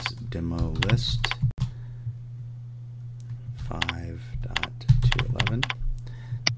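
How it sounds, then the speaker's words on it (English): Typing on a computer keyboard comes in three short bursts of quick, crisp clicks separated by pauses, with some voiced sound mixed in near the keystrokes. "we type in a name"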